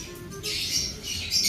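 A large bird is lifted out of its enclosure and lets out two harsh, loud squawks close by, with a quieter scratchy rustle before them.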